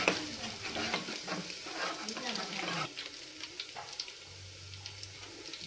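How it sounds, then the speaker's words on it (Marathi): Cumin and garlic tempering sizzles in hot oil for a mutton curry, a bright crackling hiss that is busy and loud at first, then drops to a quieter sizzle with faint stirring. "जिरे लसूणची फोडणी,"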